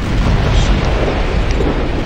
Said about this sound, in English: Fire up the base cannon.